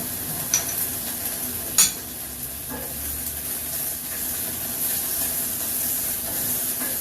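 Cherry tomato halves sizzle in a hot pan, a steady close frying hiss with a couple of sharp pops and spatters early on.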